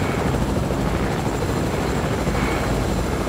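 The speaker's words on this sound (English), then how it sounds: "just get the helicopter first" Helicopter in the Fortnite video game, a steady loud rotor and engine drone running continuously and close by, with no talk over it.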